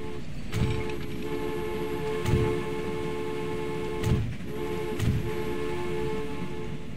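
A train in a railway-building game rolls steadily along the track, with a sustained mechanical drone and a few regular rhythmic thumps as wheels pass rail joints.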